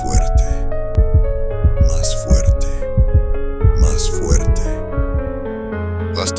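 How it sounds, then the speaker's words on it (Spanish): A slow, deep heartbeat-like thumping pulses at a steady rhythm beneath eerie sustained tones and a voice speaking dramatically over it, forming a horror-story effect. "es el latido de su espantoso corazón"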